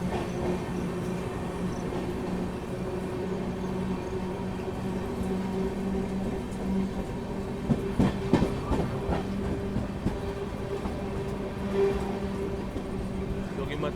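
The Trivandrum Rajdhani Express, train 12431, runs steadily on its tracks with a continuous rumble and a faint rhythmic clatter throughout. Someone talks over the noise.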